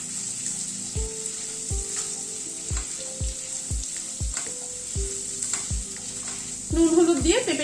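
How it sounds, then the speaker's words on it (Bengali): Papaya fries in a pan with salt and turmeric, a steady close sizzle punctuated by a regular series of sharp knocks as a spoon strikes the pan, with a rougher scraping stir near the end. "নুন হলুদ দিয়ে পেঁপেটাকে একটুখানি ভেজে নেব।"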